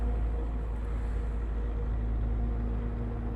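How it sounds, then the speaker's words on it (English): Street sweeper truck rumbles steadily and low in the background near stadium construction, a continuous, even drone with no breaks and no voices. "that rumbling sound is the street sweeper or street cleaner truck"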